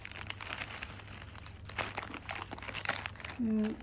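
Plastic packaging crinkles and rustles in short bursts as it is handled and torn open up close, with brief speech and a short tone near the end.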